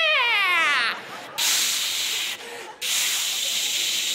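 A voice imitates a cat with velcro paws on carpet, making a descending whining mew followed by long harsh scratchy ripping bursts, loud and close with short gaps between them.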